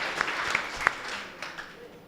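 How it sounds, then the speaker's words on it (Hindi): Brief, fairly faint applause from an audience at a mushaira poetry gathering, scattered claps rising and fading over a couple of seconds. "आप लोग एक मरतबा तालियां बजा दीजिए असगर बिलग्रामी साहब के लिए।"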